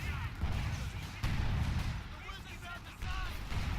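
Artillery fire in the Battle for Caen video game, with sharp blasts and booming impacts that punctuate a noisy battlefield while a voice talks over it.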